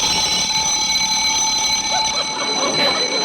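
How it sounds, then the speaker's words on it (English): Alarm clock in a 1942 radio drama ringing with a continuous bright metallic tone, fairly loud and steady, while voices talk faintly over the end. "I must have hit the button on my alarm clock."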